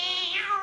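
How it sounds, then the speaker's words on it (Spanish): A single cat meow, clear and close, rising then sliding down in pitch over under a second, heard alone on a comedy television program. "me pareció escuchar un gato"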